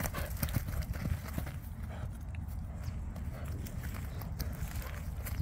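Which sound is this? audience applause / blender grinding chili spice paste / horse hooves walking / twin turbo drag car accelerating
horse hooves walking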